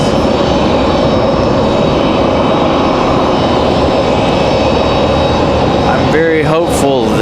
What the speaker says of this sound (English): As the two CRJs here swap positions.